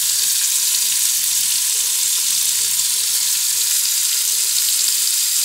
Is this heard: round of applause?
no